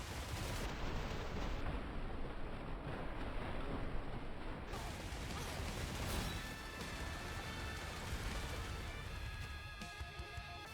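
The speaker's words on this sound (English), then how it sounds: "it's not the beam, it's the explosions after the beam that matters" Explosions follow a Chimera beam attack in the game Wuchang: Fallen Feathers, a dense rumbling series of blasts and crackling bursts with bright chiming effects, fairly quiet overall.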